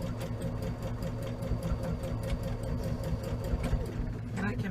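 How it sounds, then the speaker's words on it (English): A sewing machine back stitches over the seam of a tote bag handle, a steady close whirring stitch rhythm running throughout with a brief pause near the end. "And I can back stitch over the seam."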